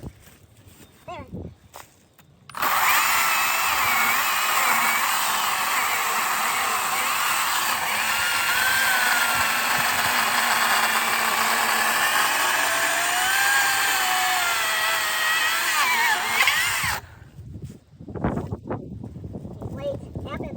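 An electric chainsaw with a freshly sharpened chain cuts through a pile of wood, giving a loud, continuous high whine for about fourteen seconds that starts and stops abruptly. Quieter handling and rustling noises come before and after the cut.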